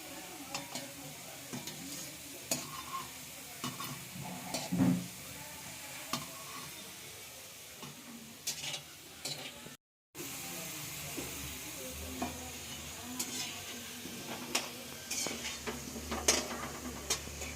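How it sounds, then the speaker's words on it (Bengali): Pantua sweets frying in hot oil in a home kitchen, a low steady sizzle with scattered stirring clicks and utensil taps, moderately close, continuing throughout with a brief dropout partway. "দেখো আগে কতগুলো ভাজা হয়ে গেল"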